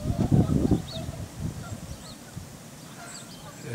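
Geese honk in a short burst of loud calls, then a few fainter honks follow over a quiet outdoor background.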